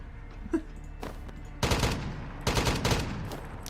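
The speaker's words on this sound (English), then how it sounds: "Oh, actually, you guys never heard the AK sound effect." An AK rifle gunshot sound effect made for an upcoming indie game. After a few faint clicks, two sharp, loud bursts of rapid automatic fire ring out, each lasting under a second.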